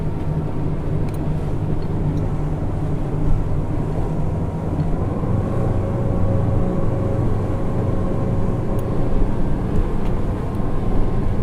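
An XO Boats 270 Cabin outboard boat runs underway on a sea trial at about 16 knots, its engine drone and rushing water forming a loud, steady, continuous roar with no talk.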